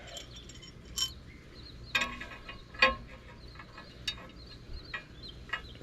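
A bolt is worked out of a Mantus M1 anchor, producing a few sparse metallic clicks and scrapes, close but faint, separated by quiet gaps with no talking.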